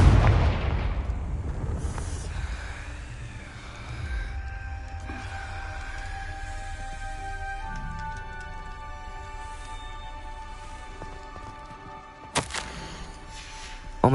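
A Confringo explosion spell in a Hogwarts video game, a heavy booming blast up front fading into a long rumbling tail with lingering tonal game effects and a sharp hit near the end.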